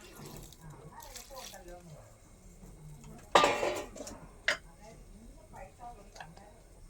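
A short splash of water pours into a pan for a vegetable stir-fry amid light clinks of cookware, while a voice talks quietly in the background.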